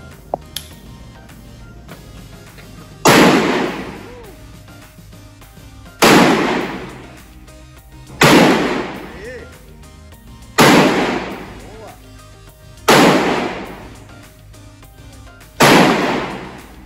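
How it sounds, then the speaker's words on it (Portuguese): Six loud shots from a Colt Python .357 revolver firing original ammunition, each a sharp blast with a decaying ring, spaced roughly two to three seconds apart after a few faint handling clicks. "E agora os primeiros disparos aqui com o Colt Python."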